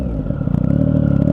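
A Triumph 2016 Speed Triple S motorcycle exhaust rumbles at idle and then revs, a loud, close, steady engine drone with a throbbing pulse and no talk.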